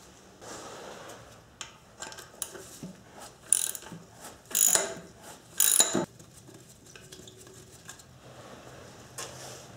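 Wrench loosening a rusted, corroded bolt during engine disassembly: a string of close ratcheting clicks and scraping metal bursts, several louder grinding pulls in the middle, with quiet pauses between.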